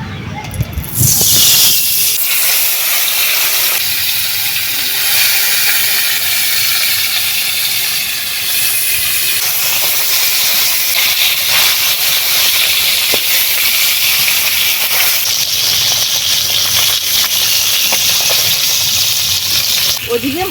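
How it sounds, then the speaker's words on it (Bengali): Koi fish fry in oil in a pan, a loud, continuous close hissing sizzle that swells sharply at the start as the fish goes in and then holds steady, with occasional spits and crackles. "মাছটা আস্তে আস্তে ভালোভাবে ভাজাতে হতে থাক"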